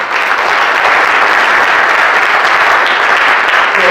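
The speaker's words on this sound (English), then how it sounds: "give yourself a round of applause for your efforts." A fathers' conference audience applauding, a loud, dense wash of clapping that holds evenly for several seconds with no voices over it.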